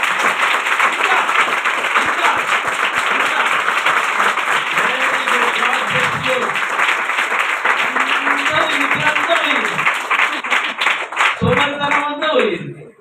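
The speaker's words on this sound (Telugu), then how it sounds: "దేవుడికి ఒకసారి గట్టిగా చప్పట్లు కొట్టండి." A large audience claps loudly and steadily for God, a dense, sustained burst of applause with voices calling out over it toward the end.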